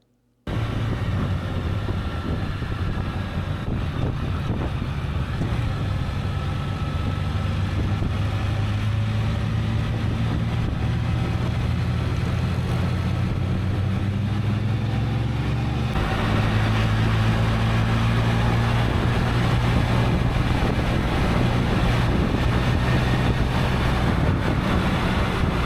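Motorcycle ride over Lolo Pass toward Lewiston, Idaho: a constant engine drone mixed with heavy wind rush for the whole stretch, loud and close, growing slightly rougher partway through, with no talking.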